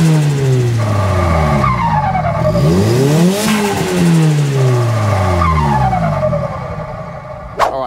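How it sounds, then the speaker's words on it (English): Car turbo and engine sounds from a Sonic horn and a real Nissan S15 Silvia turbo, loud sweeping revs rising and falling with a squealing whine, ending in a sharp burst. "compare the sound of the turbo using the Sonic horn and using a real turbo from an S15 Silvia"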